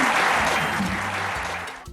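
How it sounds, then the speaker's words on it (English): Steady clapping during an online class presentation, loud and continuous with no break, fading slightly toward the end. "I'm going to give a big clap for it."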